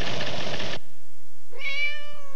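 A cat meows once, loud and close, a single drawn-out call standing clear after a brief burst of noise, in a Purina Cat Chow commercial.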